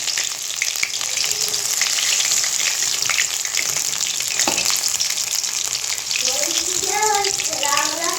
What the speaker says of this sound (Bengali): দু পিঠই সমানভাবে ভাজা হয়ে গিয়েছে